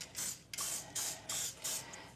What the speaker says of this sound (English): Now we're going to spray our pan with Pam.